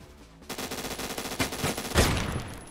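Rapid gunfire in a Roblox Phantom Forces match, a dense burst of automatic shots followed by louder, heavier blasts including a shotgun, loud and close with no talk.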